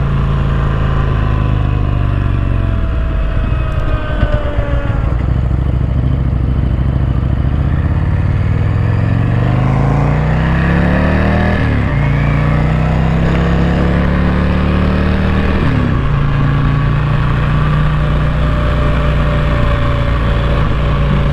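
A P51 Combat Fighter motorcycle cruising on a coastal highway, its engine droning loud and steady throughout, with rising and falling pitch as it shifts and accelerates, plus wind rush.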